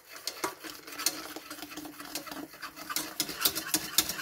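A spoon or whisk stirs thickening crème diplomate custard and milk in a saucepan, giving soft, continuous scraping and patter sounds, fairly quiet and close.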